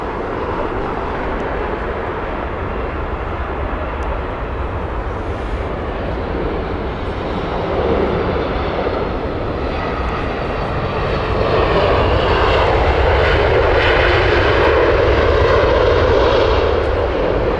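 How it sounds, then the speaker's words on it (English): An Airbus A350 airliner taxis or is towed at Heathrow Airport, giving a loud, continuous jet-engine roar that swells gradually louder toward the end, with no talking. "Another A350 being taxied"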